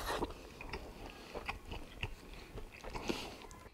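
Biting into and chewing a steak taco on a fresh tortilla with melted cheese, lettuce and onion, close-up moist crunching and mastication in a steady run of bites and chews, no talking.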